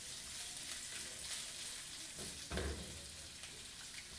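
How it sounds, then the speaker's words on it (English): Sliced red onions frying in oil in a pan make a faint, even sizzle, distant and low in level, with one slightly louder spatter partway through and no voices. "Once the oil is up to heat, we're going to add in our sliced red onions."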